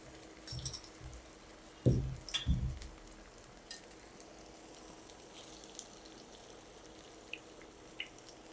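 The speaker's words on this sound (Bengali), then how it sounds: "ফ্রাই প্যানে কিছুটা তেল দিয়েছি আর তেলটা বেশ ভালোভাবে গরম হলে ডিমটা দিতে হবে" An egg frying in hot oil in a frying pan, with a faint, steady sizzling hiss throughout and a few louder pops and crackles near the start.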